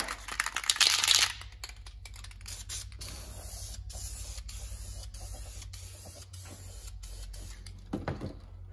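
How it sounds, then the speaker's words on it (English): A short loud burst of aerosol spray paint at the start, then a quieter mechanical hiss and clicking, with another brief spray burst near the end, while painting engine parts. "I think I'll give it another quick spray on this side"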